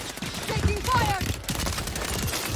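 Rapid gunfire from many players in a shooter video game, dense crackling bursts with ricochet-like whines, close and continuous, with a voice talking over it.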